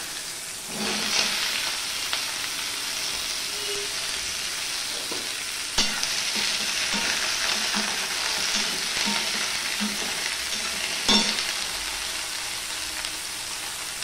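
Chopped bottle gourd tipped into a pan of hot spiced tempering for a dal, giving a steady close hiss of sizzling with occasional clinks and stirring scrapes.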